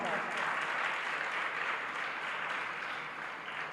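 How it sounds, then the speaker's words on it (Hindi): An audience at a religious discourse applauds, a dense, steady wash of clapping that holds for several seconds and eases slightly at the end, with a voice faintly over it. "एक बार बच्चों के लिए तालियां बजाओ"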